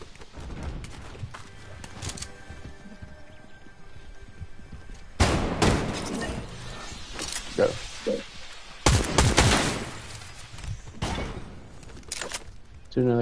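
Gunfire in a PS4 shooter game, loud bursts and booming shots aimed at targets in the air, coming in dense clusters between quieter stretches, with people talking over some of it.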